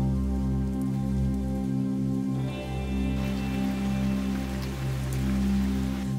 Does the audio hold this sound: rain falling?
yes